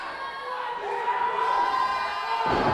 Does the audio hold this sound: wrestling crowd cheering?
yes